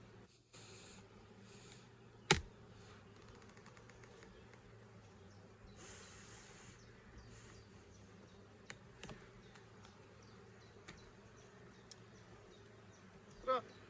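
Steady low buzzing of many honeybees around hive frames fills the scene, with a few sharp knocks and clicks scattered over the drone.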